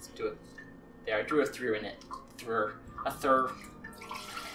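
Water swishes and splashes as rice is rinsed in a bowl for onigiri in a home kitchen, a close, irregular sloshing that rises in bursts while a person talks over it.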